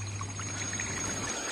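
Muddy, silty tap water pours steadily from a household pipe in flood-hit Kampung Iboy, Baling, a continuous rushing splash heard alone for over a second before easing off.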